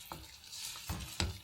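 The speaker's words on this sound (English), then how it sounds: "So we're just going to add a little bit of water now." Water poured into a pot of potatoes cooking for a potato and peas curry sets off soft sizzling and bubbling, with a few brief stirring bursts close by.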